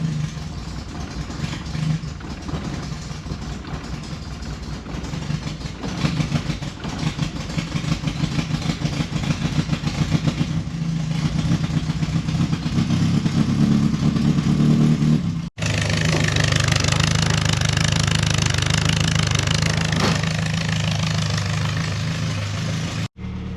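A 2024 Ford F250 pickup with a 6.8L V8 bi-fuel CNG engine runs loud and steady, a low continuous rumble that shifts to a heavier drone after a brief cut partway through.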